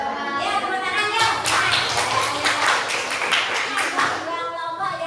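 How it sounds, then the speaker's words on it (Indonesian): Classroom applause at an Indonesian teacher-training lesson, a dense burst of hand clapping from students that swells around the second mark and continues steadily for several seconds, with faint children's voices mixed in. "tepuk tangan ya"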